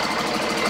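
A Cummins 5.9 ISB diesel engine with a dirty rear gear runs steadily at close range, a dense, even clatter and rumble with no pauses and no talking.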